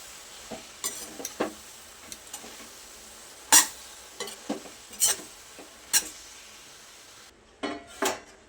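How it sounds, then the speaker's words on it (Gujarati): A spoon stirs sev khamni mixture in a pan over a low flame, making scattered scraping and tapping clicks against the metal at an irregular pace, with a faint sizzle underneath and no talk. "હવે બધું સરસ મિક્સ કરી દઈએ."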